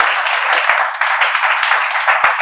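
A group in a spoken English class claps together in welcome, a dense, loud burst of applause that carries on steadily throughout.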